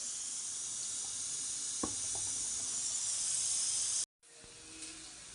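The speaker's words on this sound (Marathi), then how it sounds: "आता हे मस्त फ्राय करून घेते" Food frying in oil at home: a steady, bright hiss of sizzling fills the clip, with a couple of faint clicks and a brief dropout near the end.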